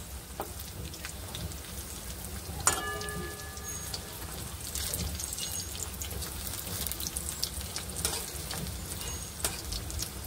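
Maggi pakoras fry in hot oil with a steady, fine crackling sizzle throughout, broken by a few sharp pops and a brief metallic clink as they are turned.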